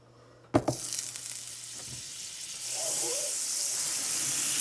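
Celery and onions hit hot butter in a pan, a sharp clatter followed by a hiss that swells into a steady, loud sizzle for the rest of the moment.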